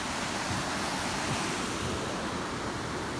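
Madeline Creek, the outlet of Flapjack Lakes, rushes steadily nearby, a loud continuous wash of flowing water with no breaks.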